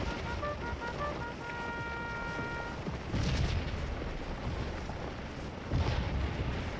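Artillery fire in the Scourge of War game during the Battle of Stones River, distant booming blasts rolling over a constant rumbling battlefield din, with a few sharper thuds standing out near the middle and end.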